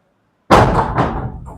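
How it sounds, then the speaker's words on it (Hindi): A classroom door is shut with a single sharp, loud slam, followed by a brief rattling knock as it settles into the frame, close by in an otherwise quiet room. "ये बंद कर देना दरवाजा"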